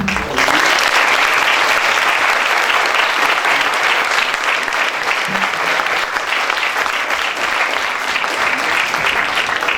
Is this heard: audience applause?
yes